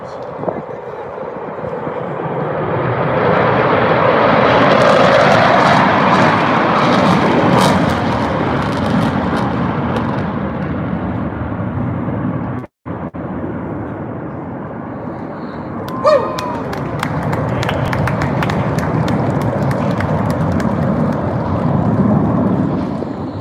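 Blue Angels jets roaring past with afterburner at a live air show, a loud, sustained broadband rumble that swells and holds for many seconds, with a brief cut and crowd noise underneath.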